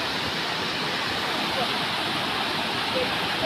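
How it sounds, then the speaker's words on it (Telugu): The Geelong waterfall near Melbourne, a gentle flowing cascade rather than a tall drop, makes a steady, full rushing hiss of water that stays even throughout at close range. "పైనుంచి వాటర్ ఫాల్ దగ్గరకు వచ్చేసాం."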